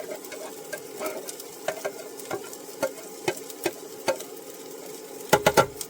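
Beef fried rice with butter and oil being stirred in an electric pan: a steady soft sizzle underneath, with repeated sharp scraping clicks of the utensil against the pan and a quick cluster of scrapes at the end.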